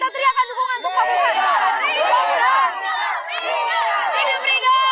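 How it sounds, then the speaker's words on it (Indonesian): Crowd of neighbours shouting and cheering in support of a neighbourhood RT chairman candidate, many voices raised together in a loud, close chorus of rallying cries lasting several seconds. "kita teriakan dukungan untuk Pak Burhan"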